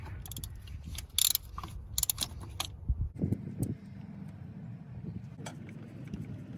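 Ratchet wrench loosening a 10mm nut on the thermostat housing of a Toyota Tercel, heard as bursts of close mechanical clicking and clatter followed by quieter metallic handling noises.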